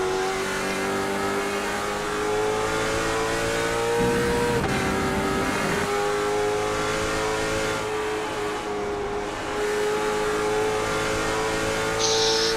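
A Trans Am race car engine howls steadily at high revs, its tone rising and then easing slightly as it moves along the track, loud and continuous with no talk.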